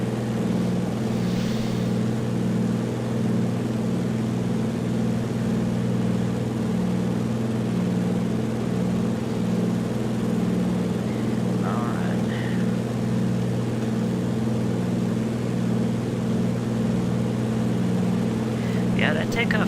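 A Milviz Beaver floatplane's radial engine drones steadily at full power on takeoff in a flight simulator game, a loud constant hum throughout with a few faint brief noises on top.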